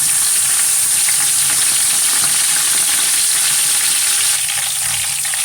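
Loud, steady sizzling of green chillies in hot tempering oil crackles and hisses continuously, with no voices, easing slightly near the end.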